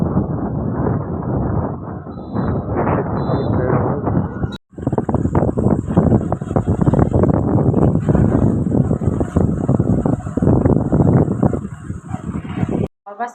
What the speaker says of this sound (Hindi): हवा इतनी तेज़ चल रही थी, सारे बाल उड़ गए